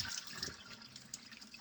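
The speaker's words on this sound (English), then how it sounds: "Get the water off because we soaked them overnight. I'm going to give them a little bit of a rinse." Water running from a tap over soaked black-eyed peas in a sieve, a steady close splashing rinse with no talk.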